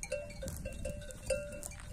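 A sheep among goats and other flock animals bleats faintly several times, with soft jingling like a cowbell and other quiet bleats at a distance.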